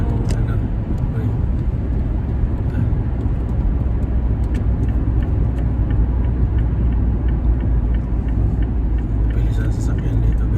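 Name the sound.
cars driving fast on a highway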